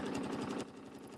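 An embroidery sewing machine stitching fabric, a steady rapid mechanical chatter that is loud at first and then drops to a softer, continuing rhythm, with no talking.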